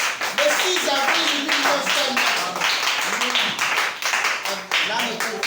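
A church congregation claps and cheers together in a loud, continuous burst of rhythmic applause mixed with voices calling out, holding steady for several seconds.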